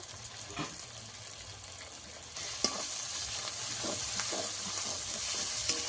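Ginger, turmeric and chili powder fry in a pan with spiced water while being stirred, giving a steady close sizzle broken by scraping strokes that grows fuller toward the end.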